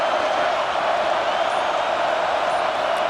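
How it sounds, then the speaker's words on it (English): Stadium crowd noise in EA Sports College Football 26, a steady loud roar of a packed crowd pressing during a red zone defensive stand, with no break. "here comes the noise. This crowd is trying to inspire this defense to make a big red zone stop."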